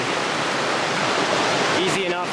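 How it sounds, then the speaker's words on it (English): Water of North Fork Creek rushes steadily at a trail crossing on the Pacific Crest Trail, a continuous broadband flow heard up close, with a faint voice speaking briefly near the end. "Here's the North Fork Creek crossing."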